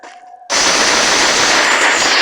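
Gunfire in an online shooter game erupts abruptly after a quiet moment, a loud dense continuous burst of rapid shots filling the rest of the clip.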